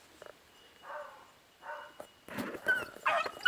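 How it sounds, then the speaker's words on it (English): A beagle barks and yelps at cows in short bursts at a distance on a ranch, with faint outdoor rustling and a few high squeaky calls. "that one's back barking at the cows."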